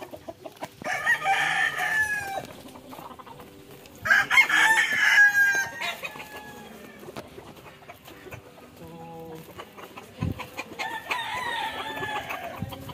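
A rooster crows loudly a few times while hens cluck nearby on a farm in Magalang, Pampanga, with scattered farmyard noises and faint talk in the background.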